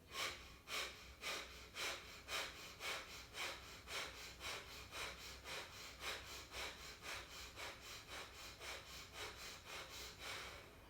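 Forceful rhythmic nasal exhalations of kapalabhati pranayama yoga breathing, a steady train of about two sharp puffs per second, close and loud, alone with no talk.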